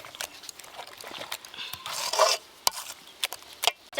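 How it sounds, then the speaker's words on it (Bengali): Batter of semolina, grated raw potato and a pinch of baking powder being mixed by hand in a bowl, giving irregular close scraping and stirring strokes with a few sharper knocks and a longer wet swirl midway. "এবার এই সব কিছু উপকরণ একসঙ্গে ভালো করে মিশিয়ে নেব"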